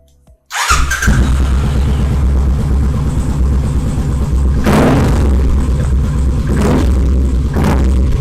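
A cafe racer motorcycle fitted with an aftermarket exhaust fires up and settles into a loud, throaty idle, with a few sharp blips of the throttle toward the end.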